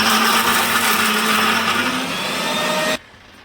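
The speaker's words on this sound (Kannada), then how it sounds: "ಇವಾಗ ಮಿಕ್ಸಿ ಮಾಡ್ತಾರೆ" Electric mixer grinder blending mint chutney with a loud, steady whine that runs for about three seconds and then cuts off abruptly, leaving quiet room tone.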